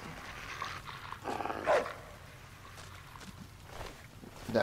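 A coyote in the video game Fallout New Vegas gives a few short barks and yelps, fairly close, with light footstep-like shuffling between them.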